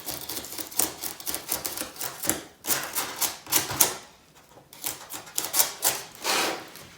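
Foam for a Christmas snow village mountain platform is cut into rounded shapes by hand, producing close, rapid scratchy rasping strokes in uneven bursts with a brief pause midway and no talking.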